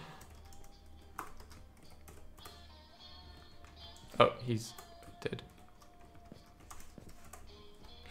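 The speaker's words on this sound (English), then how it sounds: "He's typing even though he's dead." Light clicking of typing on a computer keyboard, faint and intermittent, runs beneath a person talking casually during a Minecraft game.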